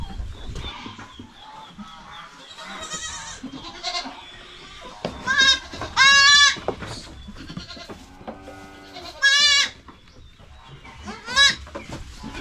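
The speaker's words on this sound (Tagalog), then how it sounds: "Halos lahat sa ating mga kambing dito ngayon na mga maliit." Goats bleat repeatedly on a farm where both small young goats and large adult females are kept, with loud wavering cries standing out over chickens clucking and other farm sounds.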